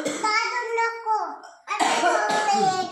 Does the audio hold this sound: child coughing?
yes